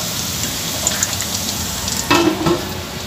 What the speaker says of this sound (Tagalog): Halo-haluin lang natin siya and then takpan ulit.